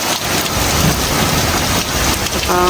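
Thunder rumbles low beneath a heavy, steady storm downpour in Canada, the rain hissing loudly and constantly close by.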